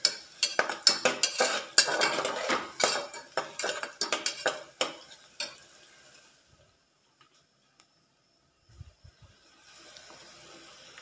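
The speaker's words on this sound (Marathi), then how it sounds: "सर्व साहित्य हलवून घेणार व्यवस्थित." Aubergine pieces and other ingredients being stirred in a metal pan, a busy run of loud scraping and clattering strokes for several seconds that then dies away to near silence with a few faint knocks.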